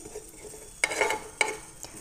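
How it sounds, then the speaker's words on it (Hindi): Cumin seeds roast dry in a pan for mutton do pyaza, with a faint crackle broken by a few sharp scraping stirs of a spoon against the metal, close and with no talking. "इसके लिए मैंने एक पैन लिया, 2 चम्मच के करीब जीरा लिया हुआ है, इसको हम अच्छी तरह भून लेंगे।"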